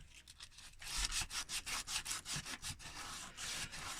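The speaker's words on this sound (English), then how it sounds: "Just give it a gentle sand like that." Hand sanding of a car wheel trim, a Nissan Almera N16 part, with 120 grit sandpaper: a steady run of close, rhythmic scratchy strokes, each rasping pass loud and evenly spaced, with no voices.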